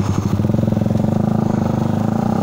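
Raider motorcycle engine running nearby at a steady idle, a loud, rapid, even putter with a rhythmic pulsing throb throughout.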